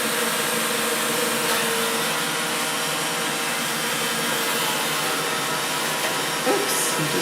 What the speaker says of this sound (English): Do you guys hear my Roomba?